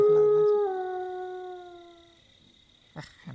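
A dog howls in one long drawn-out wail that slowly fades, followed by a short rustle or bark-like burst near the end, heard alone without talk.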